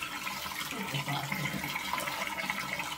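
Tap water runs steadily while a new wig is rinsed out under it, a continuous splashing flow with no talking.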